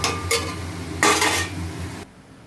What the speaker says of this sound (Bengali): চিকেন কষানো হচ্ছে